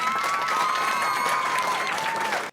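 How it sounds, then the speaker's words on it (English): An audience gives a round of applause at the close of a talk, dense steady clapping with some cheering that holds loud and even for over two seconds before cutting off abruptly. "Round of applause, folks."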